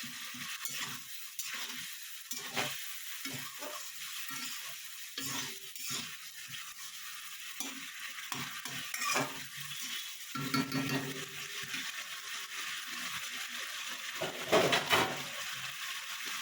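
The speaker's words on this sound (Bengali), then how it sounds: "এবার একটু কষে নেবো।" Fish masala for katla curry is sautéed and stirred in a pan: a soft, continuous sizzle with repeated scraping strokes of a spatula and occasional utensil clinks, moderately close and fairly quiet, with no voices.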